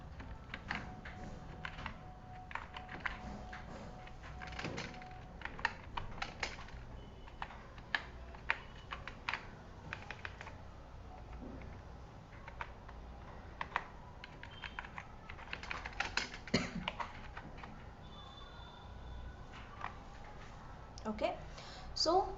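Keyboard typing as C code is written: scattered, irregular key clicks close by at a moderate level, running under intermittent speech throughout.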